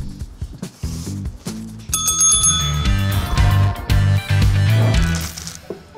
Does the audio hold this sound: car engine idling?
no